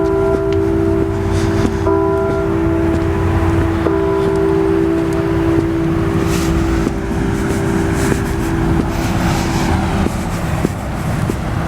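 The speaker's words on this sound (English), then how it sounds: "They're ringing the bells to welcome us, Watchman." Church bells ring out with sustained, resonant tones that linger and overlap, heard at a distance beneath a steady background hum.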